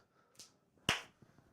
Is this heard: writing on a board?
no